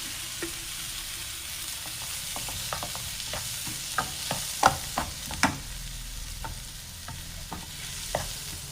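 Chopped green chilies and tomatoes frying in hot spiced oil: a steady low sizzle with irregular scrapes and taps of a spoon stirring the pan, close and moderately loud, with no one speaking.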